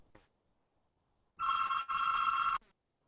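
A telephone rings in two loud electronic bursts separated by a brief gap, after a short faint chirp at the start, with near silence around the rings.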